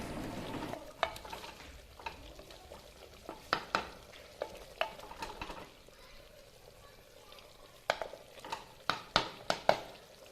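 Quiet, steady sizzling of chicken and yogurt cooking in a pot, with repeated scraping and clinking as a spoon stirs against the metal.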